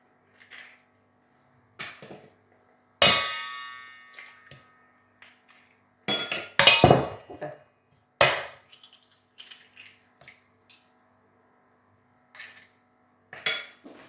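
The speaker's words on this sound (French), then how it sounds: "Et on va casser nos 3 œufs." Three eggs cracked into a bowl of muffin batter: sharp scattered knocks and crunches of shell against the bowl rim, separated by pauses, close and fairly loud, with no talk.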